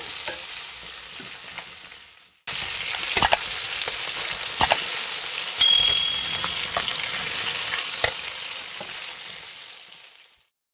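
Chicken pieces for Afghani chicken sizzle steadily in hot oil, a dense continuous frying hiss that starts quietly, jumps louder after a couple of seconds and holds with small crackles and pops before cutting off.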